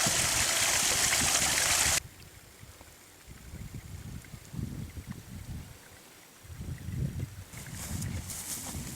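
A river on Baffin Island, Nunavut rushes loudly at first, then cuts to quieter steady flowing water with soft gurgles and trickles nearby.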